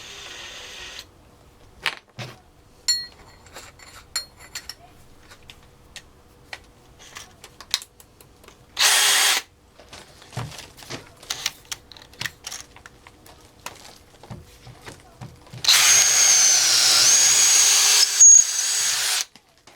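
A Dewalt DCD796 hammer drill drives a 12mm auger bit into wood. Quiet clicks and handling noises come first, then a short drilling burst, and later a longer, louder burst near the end.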